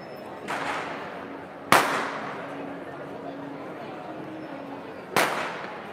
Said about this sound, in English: there are just fireworks banging and burning